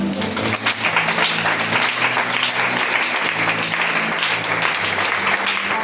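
Congregation applauding at a church teaching service, steady sustained clapping filling the room at close range with no talk over it.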